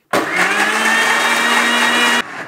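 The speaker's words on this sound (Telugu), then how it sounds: "డ్రై ఫ్రూట్స్ నానబెట్టినవి మిక్సీలో వేసుకొని ఒక్కసారి గ్రైండ్ చేసుకోండి" A kitchen mixer grinder grinds soaked dry fruits in one short, loud burst of about two seconds, a steady high whirring motor whine that cuts off abruptly, with no one speaking.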